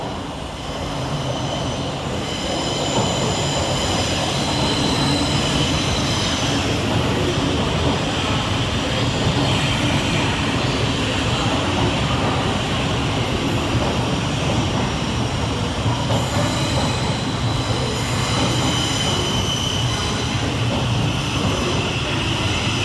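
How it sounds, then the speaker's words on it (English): A train rumbles steadily through City Thameslink station in London, a broad continuous roar of wheels and engine with faint brake squeal and hiss, close and loud throughout. "And now there is a train."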